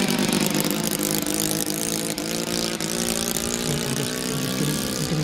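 Continuous engine roar from a 1912 Blackburn monoplane whose old propeller engine runs smoothly at steady power, close and loud, with a slight rise in pitch toward the end and no talking.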